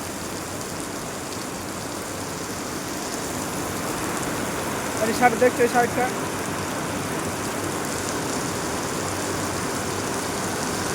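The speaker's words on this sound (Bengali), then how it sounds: "আর তো পরিমাণে বৃষ্টি হচ্ছে এখানে" Heavy rain falls at a plywood company, a constant dense wash of noise filling the whole stretch, while a person speaks briefly partway through.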